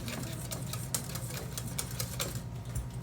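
Cake batter beaten hard and fast with a hand whisk during the creaming method, a steady rapid clatter of wire against the bowl running continuously and close up, with no talk.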